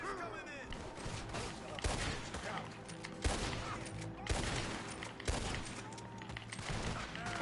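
Gunfire rings out in the Western video game Red Dead Redemption 2, a rapid series of sharp shots in bursts roughly every second over a busy game soundscape.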